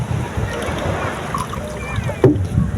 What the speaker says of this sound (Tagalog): Sasakay po kami ng bangka.